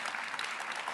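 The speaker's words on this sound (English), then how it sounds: "Warm applause." Warm audience applause closing a conference panel session on adapting coastal cities, a steady dense wash of clapping from a seated crowd, fairly distant and even, with no voices over it.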